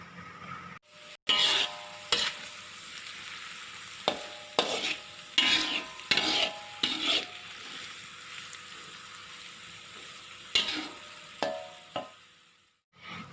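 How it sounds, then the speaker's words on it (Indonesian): Tempe orek being stirred in a pan over low heat, a wet sizzle with repeated scraping strokes of the spatula in irregular bursts, fairly close and alone without talk. "Nah, kemudian diaduk-aduk. Ini apinya sedang aja, jangan terlalu besar"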